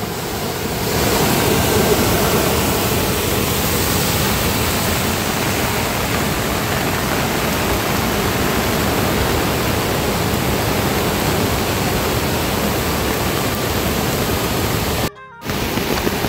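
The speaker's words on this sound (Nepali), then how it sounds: "यहाँ पनि पुरै झरना बनिरहेको छ, यो एसएनएस चौतारीबाट झरेको पानी हो" Monsoon rainwater pours off the SNS Chautari structure near the flooding Sardu Khola as a small waterfall, a steady, loud, broadband rush that runs unbroken, with a brief dropout near the end.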